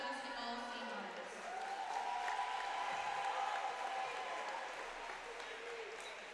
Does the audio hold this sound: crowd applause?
yes